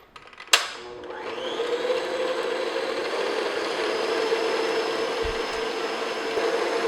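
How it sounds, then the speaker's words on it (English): An electric mixer whirs steadily as it beats egg yolks into yellow butter cake batter, starting with a sharp click and then running at a close, even drone with no talking. "Now I'm going to add about half of the yolks at a time, about 3. It's not that critical. And then I'm just going to beat this in for maybe a minute."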